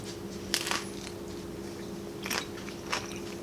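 Crunchy bites into a tortilla chip loaded with cheesy chipotle black bean dip, a few sharp close crunches spread over a steady low background hum.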